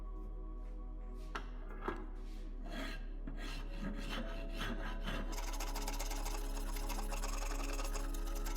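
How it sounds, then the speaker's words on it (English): A hand file rasps steadily across bench lumber in repeated strokes, quiet and close, with no talking. "I would rather use a file so I can make sure not to go too deep on stuff"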